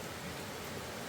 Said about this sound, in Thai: ฝนตกใหญ่มาเลย